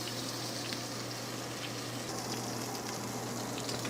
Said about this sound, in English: I use this thing to keep the grease from popping all over the place, and it still pops